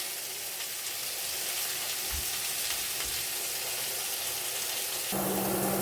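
Sausage frying in a pan on medium heat gives a constant close sizzle and crackle that continues steadily throughout with no talking.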